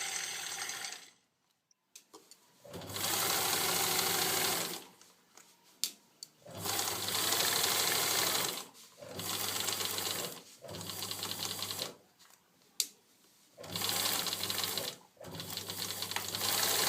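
Sewing machine stitching the side seam of a skirt with a 1.5 cm seam allowance, running in four steady bursts of several seconds each, separated by short pauses, fairly loud with no talking.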